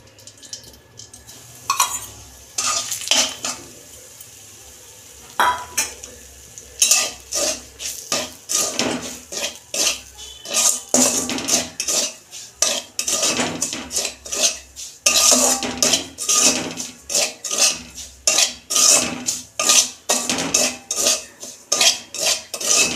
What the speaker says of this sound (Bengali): ঘি দিচ্ছি কড়াই, সুজিটা ভাজবো।